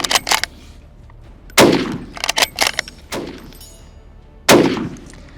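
Sharp, loud rifle shots from a Carcano scout rifle crack in quick succession, clusters of reports with ringing decay and a few metallic clanks between them, fired close by outdoors.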